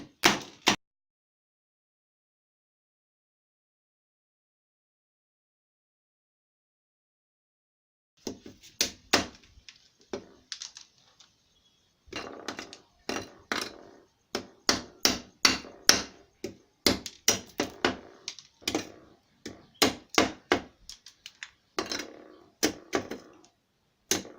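Periwinkle being cut for Ekpang Nkukwo, producing sharp, rapid chopping knocks in irregular bursts, close and crisp, after a long stretch of silence near the start.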